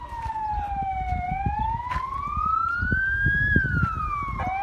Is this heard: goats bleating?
no